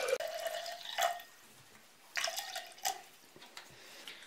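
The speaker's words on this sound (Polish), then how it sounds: "Teraz do dzbanka wlewam 250 ml wody." About 250 ml of water is poured into a jug while making dandelion flower liqueur, giving short splashing and trickling bursts separated by quiet pauses, close and fairly soft with no talking.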